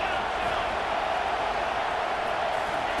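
Home crowd in College Football 25, a steady dense roar of cheering and noise that holds constant throughout at moderate loudness.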